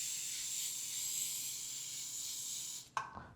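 A steady hiss of hair holding spray from an aerosol can runs for nearly three seconds, close and continuous, then stops abruptly, followed by a brief clatter.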